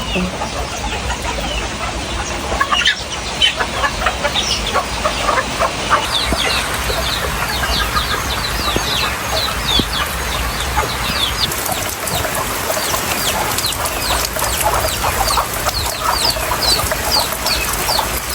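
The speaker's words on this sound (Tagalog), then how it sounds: "nagpapakain muna po si Bossing ng mga manok" A flock of chickens being fed clucks and squawks continuously, with scattered bird calls and rustling, a dense farmyard chorus with no pauses.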